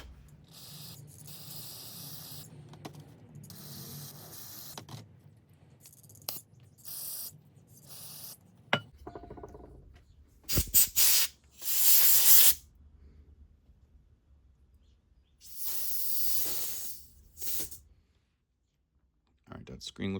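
Compressed air is forced through the carburetor of a Craftsman string trimmer in several short, loud hissing bursts, separated by quieter clicking and handling noises.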